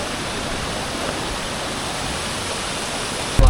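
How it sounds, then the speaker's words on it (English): A waterfall inside a cave near Jardín, Colombia, gives a loud, steady rushing roar that fills the space evenly throughout, ending in a brief burst of noise, with no voices. "So that's where the waterfall's coming"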